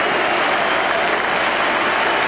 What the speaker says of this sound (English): The captain leads the applause.